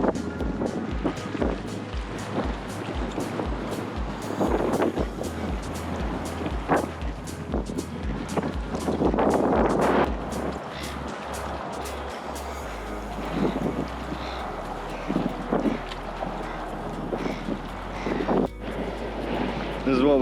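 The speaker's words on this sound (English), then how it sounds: "It is so windy" Strong wind at Botany Bay in Sydney buffets the microphone in deep rumbling gusts, with a person talking over the roar and the low thumping easing for the last few seconds.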